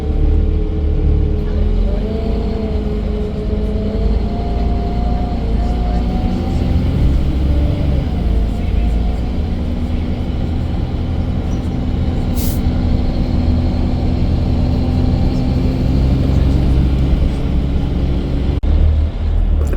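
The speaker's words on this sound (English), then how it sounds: "peak hour traffic going home, but this is absolutely normal in Sydney." Evening peak-hour traffic in Sydney heard from inside a moving bus: a steady low engine rumble and road drone with passing vehicles and occasional brake hiss, continuous and fairly loud.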